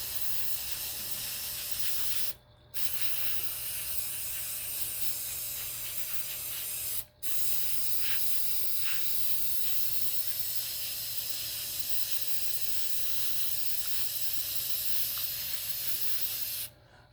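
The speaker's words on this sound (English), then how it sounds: "We're just going to spray all of it, all the way around" Aerosol spray paint hisses in long continuous bursts over a welcome mat being personalized, a steady broadband spray broken by two brief pauses, close and fairly loud with no talking.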